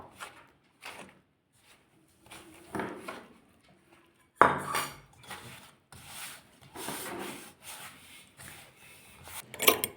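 Spinach puri dough gets mixed with milk in a bowl, making intermittent scraping and clinking of a utensil against the dish, with one sharp knock partway through and quiet gaps between bursts.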